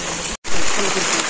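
Rain falls in a village, making a steady, loud broadband hiss with one brief cut in the middle.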